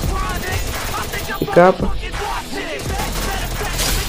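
Rapid gunfire bursts in the mobile battle royale game Free Fire, sharp repeated shots layered with game effects and a voice speaking over the action.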